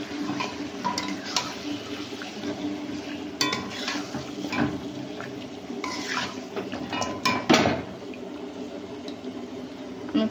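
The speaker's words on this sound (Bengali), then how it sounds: "যে চিকেনটা আমি ম্যারিনেট করে রেখেছিলাম দিয়ে দিলাম" Marinated chicken tipped into a hot pot of oil with garam masala and a bay leaf for biryani, giving steady sizzling with clinks and stirring scrapes of utensils against the pot.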